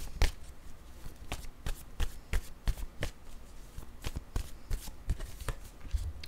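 Tarot cards shuffled by hand in a quiet room, a steady run of sharp riffling snaps and soft slaps close to the mic, repeating irregularly with no talk.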